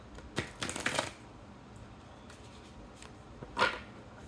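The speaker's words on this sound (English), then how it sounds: "Oh, that wasn't a very good shuffle, was it?" Soft riffling and flapping of oracle cards being shuffled in a few quick bursts, close by in a quiet room.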